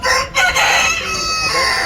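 Hens cluck loudly and continuously in a poultry house, with an insistent crowing-like call rising over the flock's chatter and a faint voice in the background.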